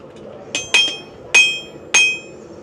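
Four sharp metallic hammer strikes ring out at a medieval faire as a blacksmith works an axe blade. The blows come at uneven intervals, each one bright and ringing with a short decay, over a low background murmur.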